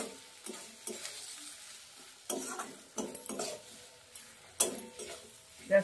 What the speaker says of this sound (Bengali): এবার সবকিছু দিয়ে আবার ভালো করে একটু কষাবো।